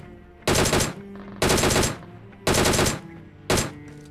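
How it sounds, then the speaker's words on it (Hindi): Four bursts of automatic gunfire from PUBG Mobile, each a loud rapid rattle lasting about half a second, spaced roughly a second apart with brief quiet between. "अब यहाँ पे कुछ बॉट का फायरिंग हो रहा था"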